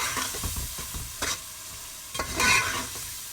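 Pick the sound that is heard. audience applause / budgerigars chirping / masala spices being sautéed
masala spices being sautéed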